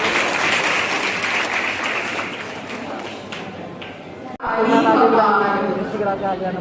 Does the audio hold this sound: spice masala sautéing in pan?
no